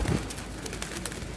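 Pigeons, a flock of colourful young birds kept by a fancier, give soft cooing calls amid faint rustling and background noise, fairly quiet and close.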